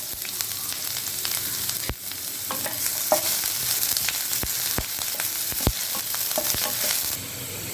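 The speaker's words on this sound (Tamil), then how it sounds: "இப்போ ஒரு பேன் நல்லா ஹீட் ஆனோடனே பொடி பொடியாக நறுக்கிய இஞ்சி பூண்டு சேர்த்துக்கோங்க." Finely chopped ginger and garlic sizzle steadily in a hot pan for paneer Manchurian, a dense frying hiss broken by sharp clicks and scrapes of stirring, with no talk.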